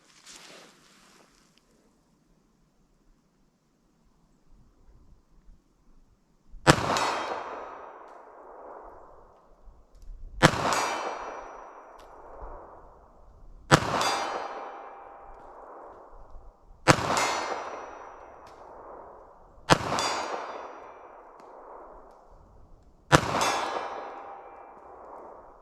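Six .32 ACP pistol shots ring off a steel target at steady intervals of roughly three seconds, each a sharp crack followed by a bright metallic clang that rings and decays; quiet outdoor ambience before the first shot.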